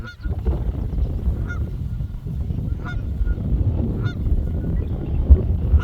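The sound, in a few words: geese honking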